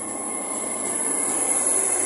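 A Class 802 train pulls away from the platform as a steady, moderately loud rumble with a high metallic hiss and faint wheel squeal, no voices.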